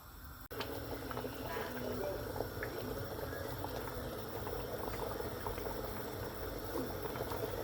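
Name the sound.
saag simmering in a pot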